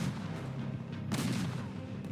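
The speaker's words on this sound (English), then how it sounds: "French artillery opened fire, trying to smash the ice with their cannonballs" French artillery cannon fire at the Battle of Austerlitz in 1805, heard as a heavy, continuous low rumble with a louder blast midway, dense and booming like a distant barrage.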